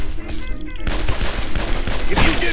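Rapid bursts of gunfire from police zombies in the video game Guns Gore and Cannoli, loud and dense shots layered over game music and effects, with a brief shift partway through.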